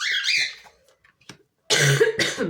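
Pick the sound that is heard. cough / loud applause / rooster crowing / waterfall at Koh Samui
cough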